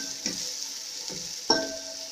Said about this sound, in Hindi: अब इनको हम 5 मिनट तक फ्राई करेंगे।